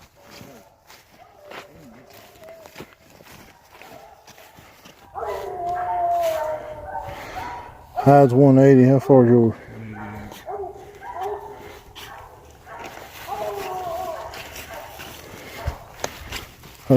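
Coonhounds bark from a distance at a treed raccoon in night woods, a chorus of faint-to-moderate baying and bawling that swells in the middle, with hunters talking quietly between and over it.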